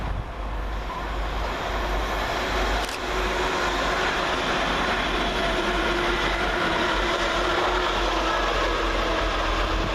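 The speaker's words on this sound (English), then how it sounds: "Next around the corner of Grand Central is 180112, working 1 Delta 71 from London King's Cross to Bradford Interchange." A Grand Central class 180 diesel unit, 180112, runs through Peterborough station, a loud continuous low engine drone and rolling rumble that holds steady for the whole stretch, heard close with no speech.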